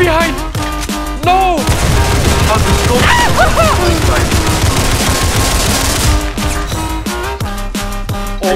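Gunfire in the video game Criminality: loud rapid automatic bursts and single shots, dense and continuous through the middle, with a voice shouting over it at times.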